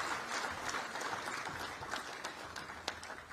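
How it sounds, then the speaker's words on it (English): Applause from an audience at a business school inauguration ceremony, a steady, fairly soft wash of many hands clapping with a few sharper claps standing out. "Can we give another round of applause?"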